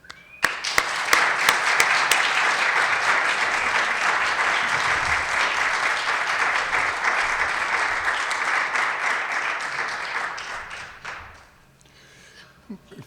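An audience claps to welcome speaker Dr. George Fitchett, a chaplain and epidemiologist, with steady applause that starts abruptly, holds for about ten seconds, then fades out into quiet.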